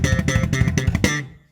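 Slap bass played in a rapid machine-gun triplet figure, a dense burst of percussive thumped and popped notes for just over a second before ringing off, close and solo.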